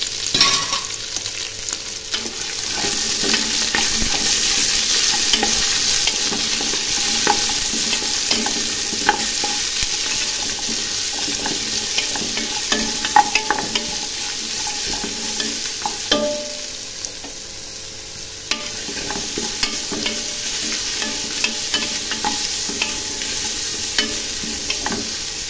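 Steady sizzling of chopped large onions frying in a pan, with occasional scrapes and clinks of stirring, close by and with no talking.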